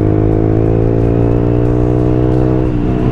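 A Honda CBR 125 motorcycle engine drones steadily at high revs while riding, with a strong even harmonic hum and a slight dip in pitch near the end, close and loud.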